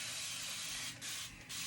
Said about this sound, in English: So I'm going to use my continual spray